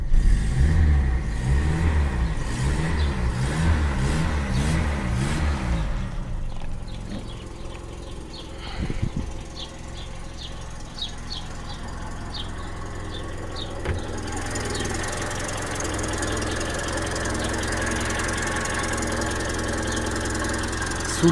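A 1978 Honda Accord's 1.6-litre four-cylinder, eight-valve carburetted engine runs steadily throughout, with a pulsing, rough drone early on that settles into a continuous, moderately loud hum.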